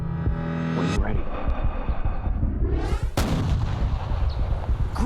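A hunting rifle fires at a caribou, a single loud, sharp report about three seconds in, its boom rolling away over a steady background of wind or rumble.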